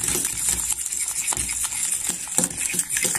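A spoon stirs a mixture in a bowl in a nursery school baking session, making quick, close clinks and scrapes against the bowl that repeat in an uneven rhythm, with no talk.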